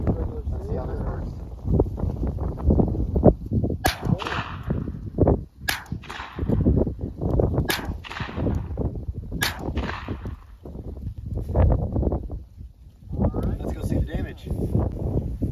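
A .22 Long Rifle is fired at a Captain America shield, with about four sharp, loud cracks spaced a couple of seconds apart, each with a ringing impact, over steady outdoor background noise.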